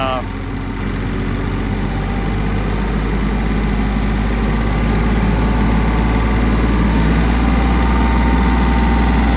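A Kioti CK3510 HST compact tractor with a Titan 5-foot brush hog runs steadily at high engine speed, a loud continuous drone with a low rumble that holds constant throughout, close by.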